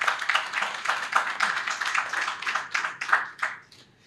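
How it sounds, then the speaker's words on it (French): An assembly audience claps loudly for the executive director in a rhythmic burst of close, crisp handclaps that stays steady and then tapers off quickly in the final half second. "je voudrais qu'on l'applaudisse"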